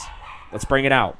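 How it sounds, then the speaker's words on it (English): Several dogs barking in the background of a gaming talk show, a short burst of yips and barks rising loudly over a man's speech. "Apologies for the dogs."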